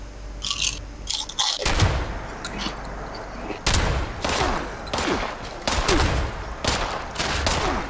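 Bursts of gunfire in the video game Fallout 76 as the player character is shot, loud repeated volleys and sharp cracks coming in clusters across several seconds, with a short gap between the heavier strikes.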